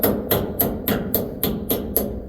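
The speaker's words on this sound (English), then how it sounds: "Normally I never use a hammer for this." Hammer blows strike at a steady, regular rhythm on a tight part fitted with a big rubber seal, eight sharp close impacts about a third of a second apart, loud and with no speech.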